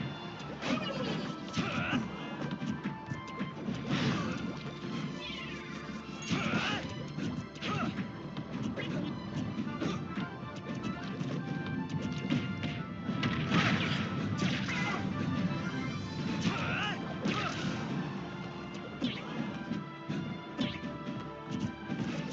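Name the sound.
smash attacks in a fighting video game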